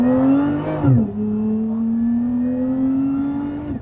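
A Lotus Emira launches hard, its engine note climbing loudly before a sharp shift about a second in, then rising steadily again as the car keeps pulling, close and without talk.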